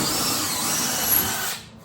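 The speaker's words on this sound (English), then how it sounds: "We're pre-drilling, everyone." A power drill pre-drills a screw hole while building a DIY coat rack, running as one steady, close, loud whine for about a second and a half before cutting off, with no talking.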